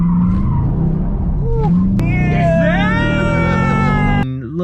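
Tires squeal and skid as a car does a burnout or drifts, a loud sustained screech with engine roar underneath, rising pitch around the middle and cutting off near the end.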